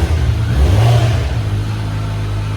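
Indoors in a closed room, a 2025 Kawasaki Ninja Z900 gives one quick, loud throttle blip that rises and falls back to a steady, throaty idle close by.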